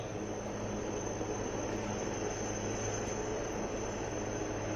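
Navy helicopter hovering during an air display at the Gateway of India in Mumbai, heard as a steady, faint, distant droning rotor and engine rumble with no speech.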